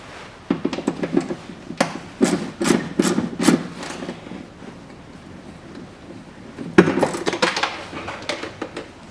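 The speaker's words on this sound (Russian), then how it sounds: "А теперь откручиваем болты на 12, которые у нас по периметру, чтобы снять вот эту крышку." A wrench loosens 12 mm perimeter bolts to remove a cover on a 1996 Toyota Dyna truck, giving two clusters of sharp metallic clicks and rattles over faint background noise.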